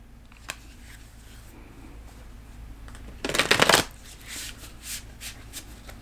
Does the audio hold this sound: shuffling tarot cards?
yes